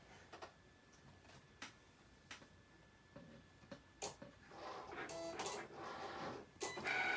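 A Cricut cutting machine set to fast mode cuts cardstock, giving faint, scattered ticks and clicks that build into soft whirring bursts of carriage movement toward the end.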